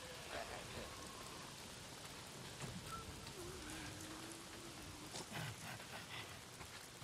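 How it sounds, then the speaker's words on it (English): Steady rain falls in the video game Days Gone, a dense, even patter of drops heard throughout at a moderate, unchanging level, with a few fainter game noises mixed in and no talking. "Why is it always raining?"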